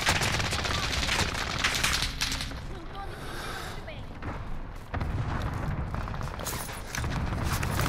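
Heavy gunfire comes from every side in the video game Call of Duty: Modern Warfare: dense, loud bursts of automatic fire and booms that keep going almost without a break, with a player's voice talking over the battle.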